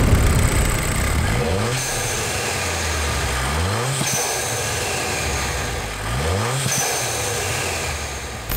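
A VW Golf 6 R Stage 2+ with a K04 turbo, loud and close, revved in repeated blips: the engine rises sharply and drops back several times over a steady rumble.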